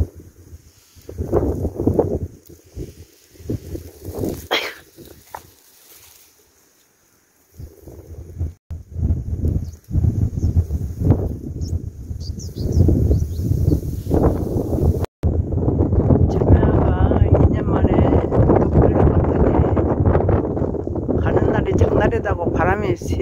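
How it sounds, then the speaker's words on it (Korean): Strong wind buffets the microphone outdoors along the Seomjin River near Hadong, a steady loud rush that swells and stays heavy for the latter half, with someone talking over it earlier. "바람이 세게 부네요."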